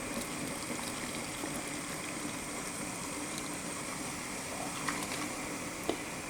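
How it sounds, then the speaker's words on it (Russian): Boiling well water being poured from a kettle into glass canning jars for tomatoes, a steady, continuous hiss and gurgle of liquid with a couple of faint clinks near the end, no talking. "А теперь заливаю банки кипяточком."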